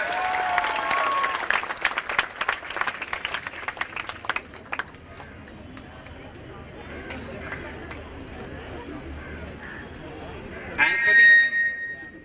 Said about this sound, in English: Come on, let's give her a big round of applause as well.